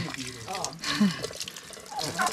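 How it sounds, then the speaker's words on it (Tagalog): Irrigation water running beside a mountain bike trail on Mt. Kinapuin in Calawis, Rizal, a close, continuous babbling trickle with a person talking over it. "Meron ditong irrigation at may tubig. Running water."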